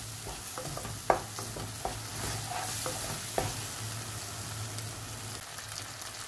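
Spices fry in hot oil over medium to low flame for dhaba-style urad dal, making a steady close sizzle with occasional scraping stirs and light clinks.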